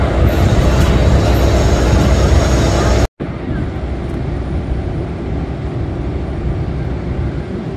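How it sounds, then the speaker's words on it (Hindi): A locomotive pulling away for shunting at a railway station yard rumbles loudly and steadily, with a brief cut midway and then continuing rolling drone. "लोकोमोटिव जो है वो जा रहा है सेंटिंग के लिए"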